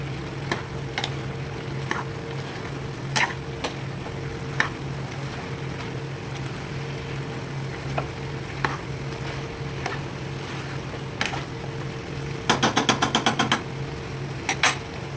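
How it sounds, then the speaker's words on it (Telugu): Chicken curry frying in a pan as chili powder is stirred in, a steady low sizzle with scattered utensil taps and a brief rapid run of scraping clicks near the end, no talk. "4 స్పూన్ల కారం వేసుకుంటున్నాను. వేసుకొని బాగా కలుపుకోవాలి."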